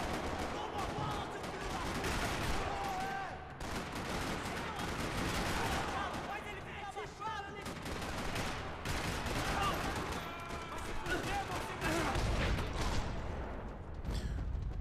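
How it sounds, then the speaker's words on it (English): Gunfire rattling across a parking lot in the video game Max Payne 3, a dense, continuous barrage of shots and bursts at steady loudness for the whole stretch, mixed with game sound. "Another parking lot rattling with gunfire."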